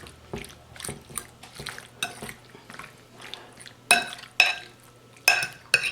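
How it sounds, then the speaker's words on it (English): A fork stirs chicken thighs in teriyaki sauce marinade for kabobs, giving close, irregular clinks and scrapes against the dish with faint wet sloshing between them. "Give it a little stir."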